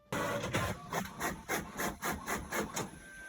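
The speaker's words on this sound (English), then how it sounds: "It printed the pages double-sided, which is what I wanted, but upside down." A home printer runs a double-sided print job of quote-book pages, giving a steady mechanical drone with regular rhythmic pulses as the paper feeds through, close and fairly loud.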